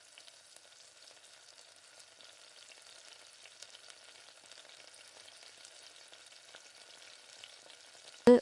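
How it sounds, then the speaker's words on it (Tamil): Wheat-flour badusha dough pieces fry in hot oil, giving a steady, even hiss and crackle that holds all the way through, with a brief louder knock right at the end. "இப்போ தட்டி வச்சுருக்க எல்லா மாவையும் இந்த மாதிரி சேர்த்து எண்ணெயில் பொரிச்சு"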